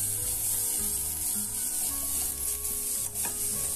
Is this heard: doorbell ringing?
no